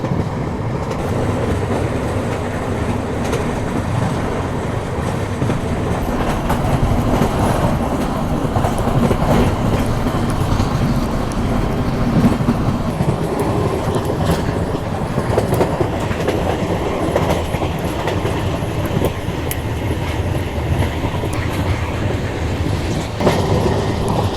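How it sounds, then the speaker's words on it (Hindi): Kathgodam Shatabdi Express running at around 110 km/h, with a loud, steady roar of wheels and rails and a continuous clickety-clack rumble heard from on board throughout. "देखिए आपने ट्रेन की रफ्तार जो है वो बढ़ चुकी है"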